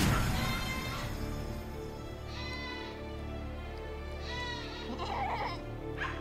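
Goats bleat a few times at moderate distance over a steady low background hum, the cries rising and wavering, with a brief clattering noise near the end.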